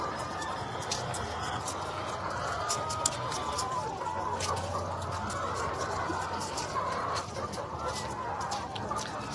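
Egg-laying hens cluck on and off at a farm where eggs are being collected, with a steady wash of background ambience and no talk.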